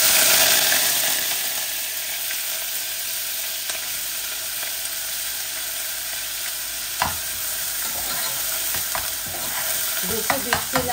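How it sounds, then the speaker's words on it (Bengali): Onion sizzling and frying in a pan for a sour salmon-head dish, a steady broadband hiss with occasional stirring scrapes and clicks growing busier toward the end, close and fairly loud with no talking. "পেঁয়াজটা একটু ভাজা ভাজা হয়ে যাক"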